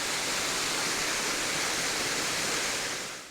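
Water pours over the cliffs at Potter's Falls in a dense, steady, loud hiss and roar that holds evenly throughout, then fades slightly at the very end, with no voices.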